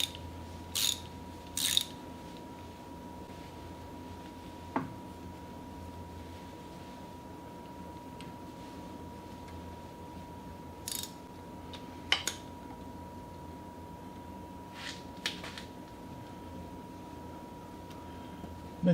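A ratchet working on a tight bolt with gummy threads, heard as a few scattered short clicking bursts spread far apart over a steady background hum and a faint constant tone.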